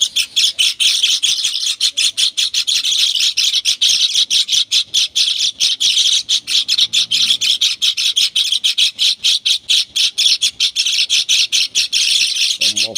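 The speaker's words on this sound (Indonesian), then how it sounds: "ada 7 ekor guys, burung gelatik belong guys, mantap sekali nih guys" Seven Java sparrows (gelatik belong) chirp busily up close, a dense, rapid, unbroken stream of high, sharp calls and twitters that continues without pause.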